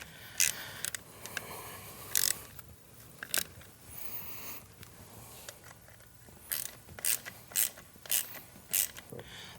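Hand ratchet snugging the bolts on a Vance and Hines VO2 Rogue intake for a Milwaukee-Eight Softail motorcycle, heard as bursts of quick metallic clicks in several short runs, close and fairly quiet, with no talking.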